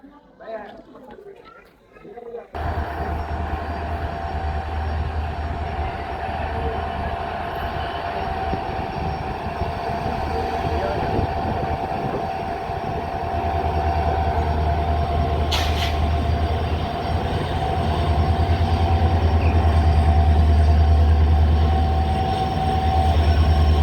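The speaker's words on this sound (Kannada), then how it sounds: "ಯಶವಂತಪುರ ಟ್ರೈನ್ ಬರಾಕತ್ತದ" A Yesvantpur-bound train rumbles past on the tracks, loud and sustained with a low roar building steadily, wheel noise and people chattering nearby.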